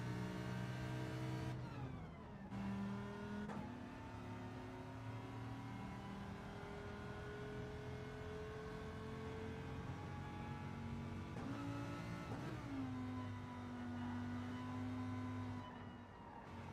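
A race car's engine in a racing video game revs loud and continuous, its pitch climbing, dropping sharply at each of several gear changes, then climbing again.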